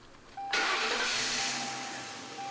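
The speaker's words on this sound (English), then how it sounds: "Now start the engine." Engine start on a service machine being run through a bypass and process procedure: a sharp burst as it catches, then a steady loud running roar that eases slightly, with no one talking.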